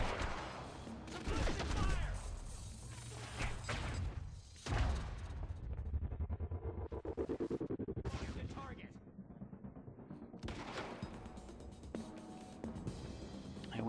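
Sniper gunfire in the video game Quantum Break: heavy, booming shots and blasts over dense action noise, with loud bursts coming and going and voices speaking beneath it.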